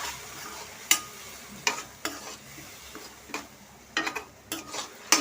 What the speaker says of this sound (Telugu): ఈ టమాటా పేస్ట్ బాగా వేగాలండి, నూనె పైకి తేలేదాకా వేసుకోవాలి.